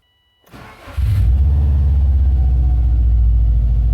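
A brief cranking whir followed by a Subaru Impreza WRX engine with new spark plugs catching and settling into a steady, loud, low idle rumble close by.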